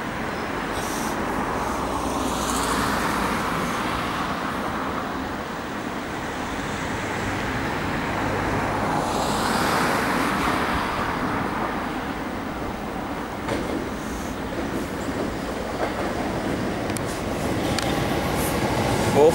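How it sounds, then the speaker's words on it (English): Gatwick Express class 442 electric trains, ten-car sets bound for London Victoria, rumble past at close range in a long, steady roar of wheels and rail noise that swells twice as the carriages go by. "Here come the Gatwick Express class 442s."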